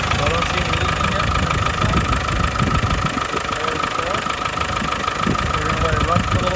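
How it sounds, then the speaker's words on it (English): A Land Rover Discovery 200TDI diesel engine idles steadily after a fuel injection pump repair, giving a continuous close rumble with a fine regular clatter and no break throughout. "We're gonna let it run for a little bit."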